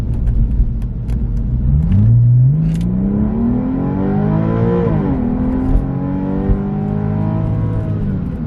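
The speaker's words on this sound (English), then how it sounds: "That has got some noise to it. And some throatiness. And there's no drone either." Porsche 996 with an aftermarket valved exhaust set to loud mode accelerates hard, its throaty rising note sweeping up through the revs, easing off, then climbing again, loud and close with no voices.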